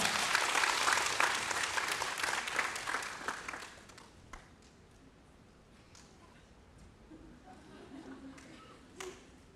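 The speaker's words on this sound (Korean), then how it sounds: "자 나오실 때 큰 박수로 환영해 주시기 바랍니다" Audience applause welcoming speakers to the stage during a church service forum, loud and dense for about four seconds, then fading to a quiet room with scattered faint sounds.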